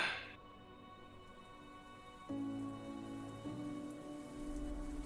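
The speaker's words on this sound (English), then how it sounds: "You feel a slight coldness as drips of water begin to pour on your skin." Soft rain effect with dripping water, a quiet steady patter with a few faint tonal layers shifting underneath, heard alone without voices.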